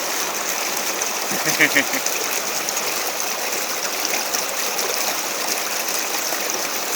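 Cold stream water fed by Takakaw Falls rushes in a steady, close, broadband wash while a bottle is filled in it, with a brief higher splash partway through and voices nearby.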